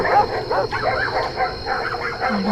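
Dogs bark, yip and whimper continuously as a horror-story sound effect, fairly loud over a steady high-pitched hum and a dense, eerie background.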